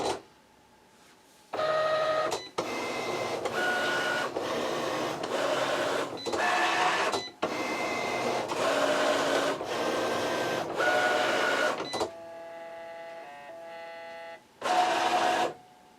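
A Cricut cutting machine running a shadowbox papercraft job, its motor droning in loud sustained bursts separated by short pauses, with a steadier lower whirring passage near the end; no talking.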